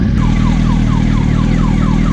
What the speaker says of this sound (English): Is that car's alarm on because of me?